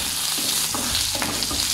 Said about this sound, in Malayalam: മഞ്ഞൾപ്പൊടി മൂത്ത് വന്നു.